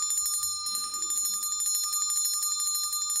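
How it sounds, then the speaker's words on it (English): Bells ring loudly and continuously as a sound effect in a theatre staging of A Christmas Carol, a bright sustained metallic jangle with rapid rhythmic pulsing and no voices. "It begins to swing slowly and then rings loudly,"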